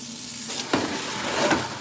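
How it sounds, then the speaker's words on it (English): Water running into a kitchen sink while a pan is rinsed out, a steady close splashing rush lasting the whole moment with a couple of brief louder splashes; no voices. "Empty it out in here and rinse it out."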